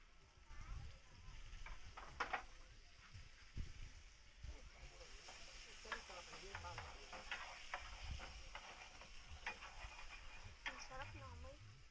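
Onions frying in a pan, a steady close sizzle and hiss with scattered crackles and stirring scrapes, under low background voices.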